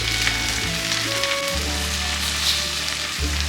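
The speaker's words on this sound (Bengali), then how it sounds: "গাজর, বিন, ক্যাপসিকামগুলো ভেজে নেব।" Carrots, beans and capsicum frying in oil for fried rice, a loud, dense sizzle close up over a low steady burner hum that cuts briefly twice.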